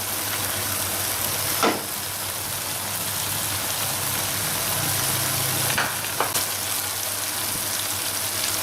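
Chicken cooking in butter in a karahi gives a steady, close sizzle with faint stirring scrapes and a few sharp clinks, continuous throughout with no talking.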